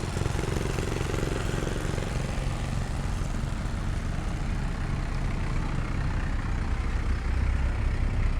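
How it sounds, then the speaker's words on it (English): Old Allis Chalmers tractor at the Oklahoma Steam & Gas Engine Show in Pawnee, driving down the road with a steady, loud low engine rumble that stays constant throughout, with no voices over it. "Another old tractor coming down the road."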